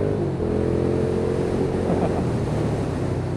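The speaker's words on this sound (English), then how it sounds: "My god, that exhaust is so good!" A Suzuki SFV650 Gladius V-twin motorcycle idling or running close by, a loud steady low exhaust rumble with uneven pulsing throb, no talking.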